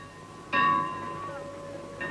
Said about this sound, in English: Hey, stop ringing that bell.